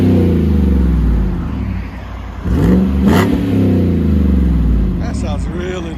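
A 2015 GMC Sierra 5.3L V8 with a 5-inch Magnaflow exhaust, its rusted tip and muffler cut off, idles with a deep rumble and then revs sharply a couple of times close by.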